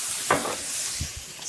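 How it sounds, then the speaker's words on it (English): Zucchini sizzling in a pan after a splash of lemon juice, a soft steady frying hiss with a couple of low stirring knocks. "Sizzling."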